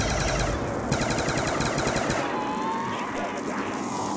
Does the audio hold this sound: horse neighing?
no